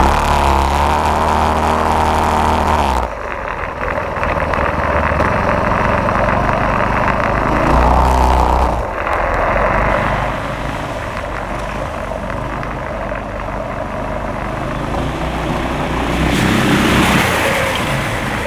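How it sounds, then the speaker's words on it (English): A four-engine all-wheel-drive go kart runs loud and close, its engines droning and revving steadily with a brief lull partway through, then surging again near the end. "So the all-wheel drive kart is back in action."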